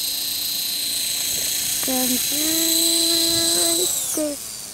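Belt CP radio-controlled helicopter flying and pirouetting in a park, a high buzzing whine with shifting rotor pitch, close and loud under outdoor wind noise and a brief voice.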